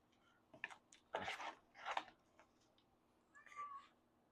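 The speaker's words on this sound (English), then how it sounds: "She likes to say hello with her meows." A white pet cat named Snowball gives several short, soft meows in a quiet indoor room, each call separated by pauses.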